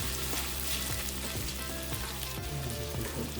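Tomato sauce for a seafood dish of ahi tuna and garlic butter shrimp sizzles steadily in a pan, a dense crackling hiss that carries on without a break and with no voices over it.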